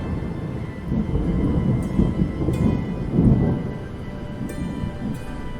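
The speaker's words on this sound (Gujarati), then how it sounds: "જંગલમાં ડાંગોર વરસાદ ચાલુ હતો." Low rolling thunder rumbles under a steady wash of heavy rain, with faint higher taps of drops, no voices.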